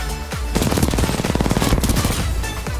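Rapid automatic weapon fire in the video game Titanfall 2 rattles out in a loud, continuous burst lasting a couple of seconds, with a lone shot just before it.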